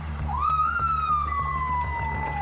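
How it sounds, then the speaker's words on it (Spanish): A police car siren wails in a rising then slowly falling sweep, loud and close, over a steady low engine drone with a rhythmic pulsing beneath, during a roadside police stop in Chile. "Esa es la sirena,"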